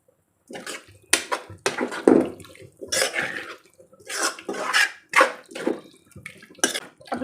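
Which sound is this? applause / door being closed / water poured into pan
water poured into pan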